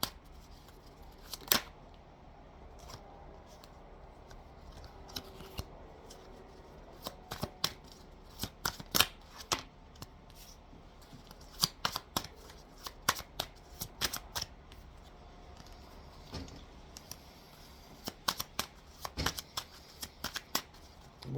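A deck of playing cards is shuffled repeatedly in a quiet room, giving bursts of crisp riffling and sharp flicks with brief pauses between them, close and fairly clear.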